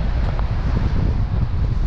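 Strong wind blowing foam off the water at a shore roars steadily across the microphone, a dense low rumble with a broad hiss, loud and continuous for the whole moment.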